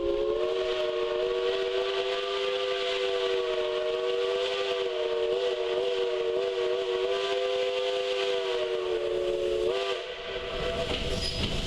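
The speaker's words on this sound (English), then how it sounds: "The engineer blows the whistle to let Grand Junction know that it's coming." Southern Railway 4501 steam locomotive sounds a long, loud, steady chime whistle for about ten seconds at Grand Junction, Chattanooga, Tennessee, with hissing steam underneath before it cuts off.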